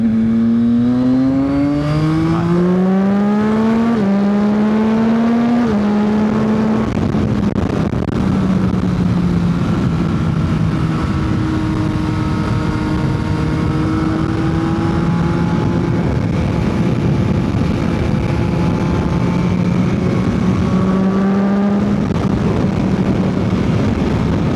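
Yamaha XSR900 motorcycle with its CP3 three-cylinder four-stroke engine, a loud close run through several rising gear pulls, then a long sustained high-revving wail and another climb near the end, with no talk.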